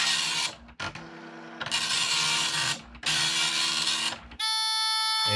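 An old dot-matrix printer, hand-fed with paper, prints in long loud rasping passes broken by short pauses and carriage returns, with a brief whirring feed at the end.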